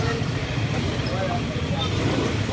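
Congested traffic on a Tondo street in Manila at a Christmas Eve market, a steady low rumble of idling cars and engines filling the scene, with voices talking over it throughout.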